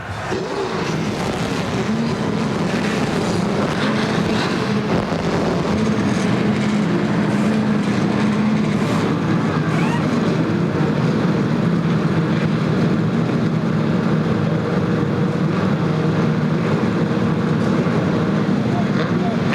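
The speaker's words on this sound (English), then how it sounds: "With that, 14 cars fire to life here at Daytona." Fourteen 1998 NASCAR Winston Cup stock cars fire up together at Daytona for the Bud Shootout, a loud, sustained blend of rumbling engines that swells after a couple of seconds and holds steady, with crowd and announcer voices beneath.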